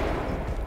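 Gunfire in the tactical shooter Ready or Not, shot through a wardrobe, a loud, dense burst of booming reports that fills the short moment with heavy low rumble.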